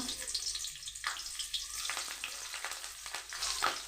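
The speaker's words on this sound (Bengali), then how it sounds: "তেল আমার গরম হয়ে গেছে একটা শুকনো লঙ্কা কাঁচা লঙ্কা চেরা" Dried red chilli and split green chillies sizzle in hot oil in a home kitchen pan, a steady close crackling hiss with brief louder spits, heard alone without talk.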